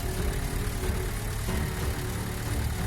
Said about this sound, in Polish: Dźwięk nagrywany jest z komory silnika po to, by było słychać dokładnie o co mi chodzi.